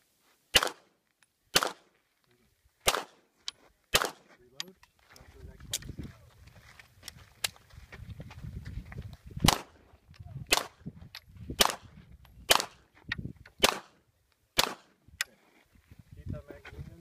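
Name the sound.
gunshots at a USPSA practical shooting stage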